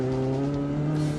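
An old race car works through a third-gear corner into an S-bend, swinging side to side over the kerbs, engine roaring loud and near with a hint of tire squeal.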